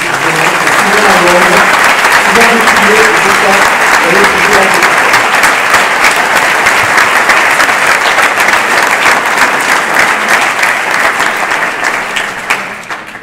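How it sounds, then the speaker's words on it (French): Loud, sustained applause fills an audience at a label award ceremony, steady and dense for many seconds, with a voice speaking briefly beneath the early clapping before it gradually tapers off. "J'aimerais que vous les applaudissiez"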